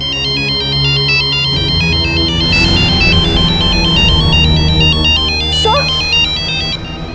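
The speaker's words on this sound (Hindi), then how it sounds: "सर ये उसी का फोन है।" A mobile phone ringtone plays a repeating melodic pattern, loud and steady throughout, with faint background sound beneath it.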